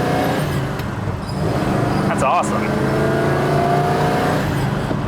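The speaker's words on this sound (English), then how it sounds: "we are just here to show you that it goes through all the gears" A 1970 Pontiac GTO with a short-throw shifter revs and pulls through its gears nearby, engine note rising and dropping with a shift midway, while a person briefly speaks.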